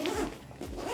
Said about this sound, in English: And then on the actual zipper head itself, you can lock it.